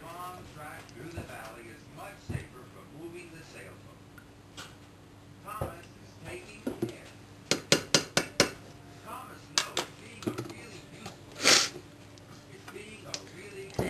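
Spoon stirring melted chocolate and peanut butter in a pot, scraping and clinking against the metal, with a quick run of sharp taps midway, under a person talking.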